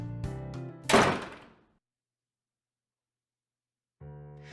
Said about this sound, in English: Once the door shuts